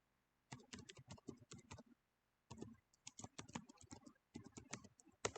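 Fast typing on a computer keyboard, three bursts of rapid crisp key clicks separated by short pauses, close and quiet with no talk.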